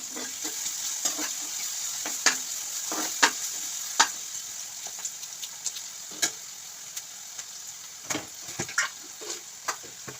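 Chopped onions and tomato fry in oil in a pan for a mushroom curry, giving a steady close sizzle with scattered sharp pops and occasional stirring clicks, no voices.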